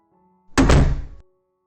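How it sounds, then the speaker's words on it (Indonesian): A bedroom door is slammed shut roughly, giving one loud, heavy wooden thud. It is close and abrupt, with a short rumbling decay and quiet before and after. "membuka pintu kamar dengan kasar lalu menutupnya dengan cara membanting sehingga menimbulkan bunyi berdebum yang keras"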